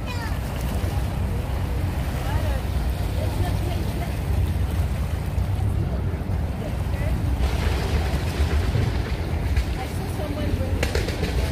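River waves lap at the shore by Gansevoort Peninsula under strong wind buffeting the microphone, a steady rushing wash with people talking faintly over it.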